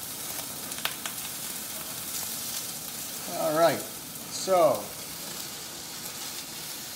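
Beef and broccoli stir-frying with oyster sauce in a hot pan under a running fan, a steady faint sizzle continuing throughout, with someone briefly speaking twice over it.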